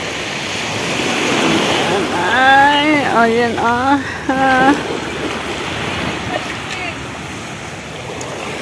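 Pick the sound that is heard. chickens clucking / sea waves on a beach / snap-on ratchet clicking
sea waves on a beach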